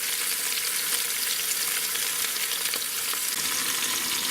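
Beef rouladen browning in a pan, a dense, even, loud sizzle held steady for the whole stretch, close and uninterrupted, with no talking.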